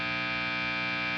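A 1989 Fender HM Strat electric guitar sustains a heavily distorted metal tone, one held buzzing chord ringing loud and steady throughout with no voices.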